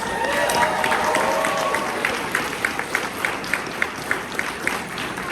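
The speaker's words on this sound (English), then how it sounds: "You need to give yourselves a giant round of applause." An audience at a comic con costume contest in Lakeland, Florida applauds the participants, a steady wash of crowd clapping with a voice over it, then a run of regular rhythmic claps.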